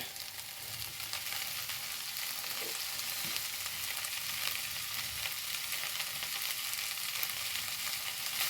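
Chicken sizzling steadily in a hot pan while being stirred, a continuous close hiss with occasional soft scrapes and no voices.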